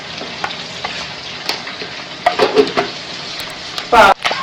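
Mustard seeds and fenugreek spluttering in hot oil for a Kerala-style fish curry, a steady sizzle broken by sharp crackling pops and a loud burst near the end, with faint utensil clinks.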